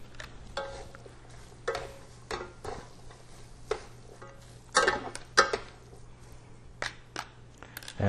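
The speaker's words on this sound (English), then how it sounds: "Stir it up again." Stirring seasoned carbonara pasta in a pan, a quiet close series of irregular scrapes and clinks of a utensil against the pan, with brief pauses between strokes and no talking.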